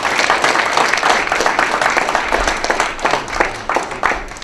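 Audience at a talk on combating the opioid crisis clapping for a speaker, a dense, steady wash of applause held at even loudness from start to finish.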